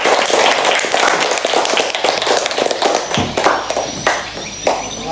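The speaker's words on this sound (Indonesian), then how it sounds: "Beri tepuk tangan untuk kelompok 2." A classroom group claps for a student team after its presentation in an Indonesian lesson. The claps are close, loud and uneven, with sharp individual slaps and no talk.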